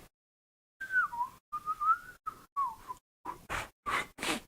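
A person whistles a few short wavering phrases, close and clear, with gaps of silence between them, followed by several quick breathy blown attempts.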